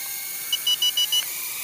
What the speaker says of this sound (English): I'm going to press this and hold it down for about a second, and then get a beep beep beep beep, and then it flips